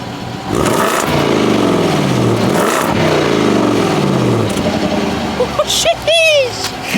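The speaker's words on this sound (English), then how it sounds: "Did you hear that exhaust? Let's go ahead and get a little bit of rev on that one." The exhaust of a 2024 Land Rover Defender Carpathian Edition revs up close in two or three rising, falling bursts, then settles to a steady hum before someone talks at the end.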